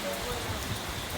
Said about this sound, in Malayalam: ഒരു രക്ഷയുമില്ലാത്ത കാറ്റും മഴയൊക്കെയാണ് നമ്മളുടെ